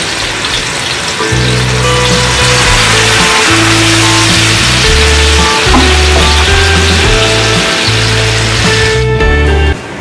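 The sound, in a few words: frying spice masala for paneer stuffed potato gravy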